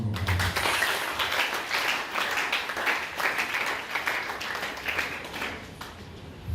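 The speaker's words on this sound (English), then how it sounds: "Please, let us give them a round of applause." An audience at an award ceremony gives a steady round of applause. Many hands clap together in a dense, continuous patter that fades slightly toward the end.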